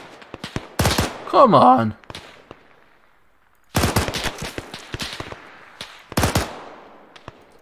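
Gunfire in the Arma 3 military game, a heavily recoiling weapon fired in short bursts of sharp cracks, loud and close, with a shouted voice between volleys.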